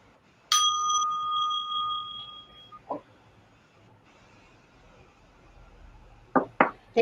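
A meditation bell struck once in a quiet room at the close of a breathing practice, its clear tone ringing and fading over about two seconds, followed by a few soft knocks or taps.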